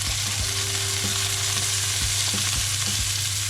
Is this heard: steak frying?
yes